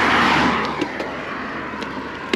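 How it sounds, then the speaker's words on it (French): Cars pass at around 90 km/h on a main national road, a brief rushing swell of traffic noise that fades and is heard from the roadside while cycling. "avec des bagnoles à 90"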